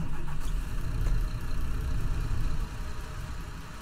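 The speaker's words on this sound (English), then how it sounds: "Let me just start the engine up." A large bus engine starts and idles in Fernbus Coach Simulator with a low, steady rumble that drops slightly in level near the end.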